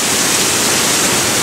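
Heavy waterfall at Pailón del Diablo in Ecuador, a loud, steady, broadband roar of crashing water heard up close with no break.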